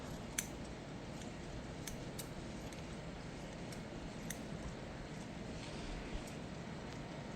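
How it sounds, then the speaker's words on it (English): Shears snipping dead ends off a plant, several sharp, quiet snips spaced irregularly over a soft, steady background hiss, close by. "Let's take Grandma's shears and give her a snip. So we cut the dead ends off"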